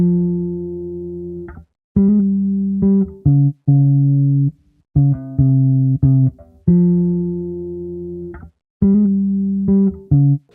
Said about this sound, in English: I actually played it on my guitar first, so it sounds like this